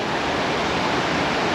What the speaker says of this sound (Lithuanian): Čia va krioklys nubėga.